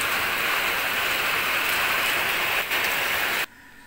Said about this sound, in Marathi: पाऊस बाहेर खूप चालू आहे।